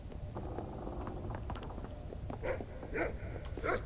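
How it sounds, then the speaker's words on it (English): Dog barking in the video game The Cave: several short yips and barks, closely spaced toward the end, over a busy background of game music and effects. "stop barking"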